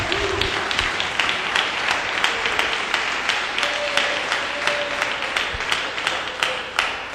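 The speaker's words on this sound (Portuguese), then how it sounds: "pode dar uma salva de palmas para Jesus" A church congregation applauding, a dense, steady wash of many hands clapping at close to moderate distance that carries on for several seconds, with faint voices mixed in.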